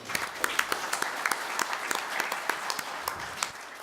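Audience applause at a medical conference on sports ECG, a steady dense patter of many hands with sharp individual claps standing out, fairly close and continuous throughout.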